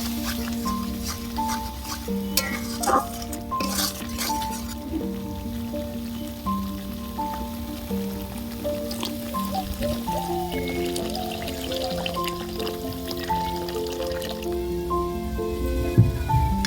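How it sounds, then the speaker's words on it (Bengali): Water splashes and drips into a pan of fried masala for a cabbage kofta curry, faint and close, with soft bubbling and sizzling as the liquid settles into the spices. "তো এখন সামান্য পরিমাণ জল দিয়ে দিই"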